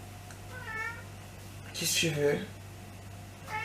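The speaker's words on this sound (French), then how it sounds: "J'ai mes chats qui miaulent." Pet cats meowing at home in the morning, a few short mewing calls followed by a louder, longer meow, with someone speaking French to them between calls and a low steady hum underneath.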